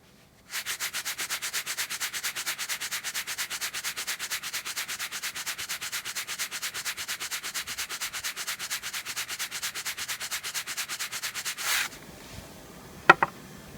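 Nylon fabric rubbed back and forth in a friction test, a fast, even train of rasping scrubbing strokes, close and steady for about eleven seconds before stopping, followed by a couple of sharp taps.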